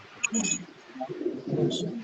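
Pigeons at a rooftop loft in Karachi give brief coos and soft calls, fairly close, with someone talking over and between them.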